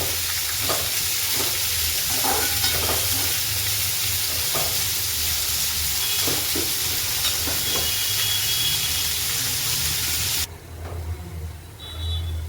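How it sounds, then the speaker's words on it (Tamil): Sliced large onions fry golden brown in a pan for an egg curry, a loud continuous sizzle and hiss with occasional stirring scrapes, dropping to a softer bubbling near the end. "ஆனியன் இப்போ கோல்டன் ப்ரௌன் கலரில் ஃப்ரை ஆகிடுச்சு."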